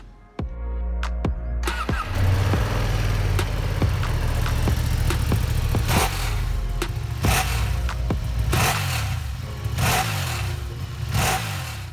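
A Ducati Panigale V2 motorcycle engine starts with a few sharp clicks, then settles into a loud, close, lumpy idle with a deep rumble and rhythmic bursts of revving.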